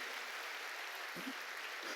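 A church congregation applauds, a steady, soft wash of clapping that sounds distant and continuous, with no talking over it.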